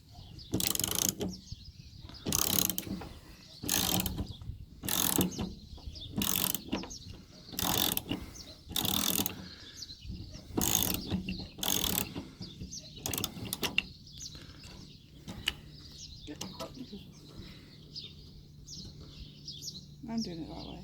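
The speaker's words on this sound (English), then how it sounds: "I have to use your ratchet. Yeah, 10mm." A 10mm ratchet works a rusty bolt loose in a run of sharp, rapid clicking bursts, loud and close, spaced about a second apart before thinning out near the end, with brief talk in between.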